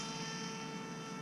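An AR Wing PRO RC plane's electric motor whines steadily at takeoff throttle, a sustained tonal buzz lasting about a second, with no talk over it.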